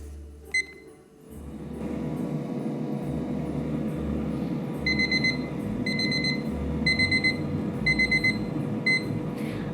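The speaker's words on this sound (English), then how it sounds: "so my 4-minute timer just went off." An air fryer's four-minute kitchen timer beeps in repeated quick bursts of high electronic tones over a steady background hum, with no talking.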